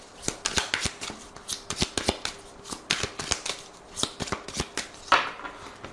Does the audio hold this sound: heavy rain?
no